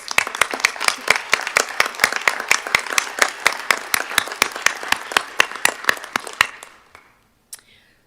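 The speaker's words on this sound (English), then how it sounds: "Everybody, big round of applause." Applause from the audience at a quarterly college board meeting, a steady run of sharp, closely spaced claps that holds for about six seconds, then thins and fades, with one last stray clap near the end.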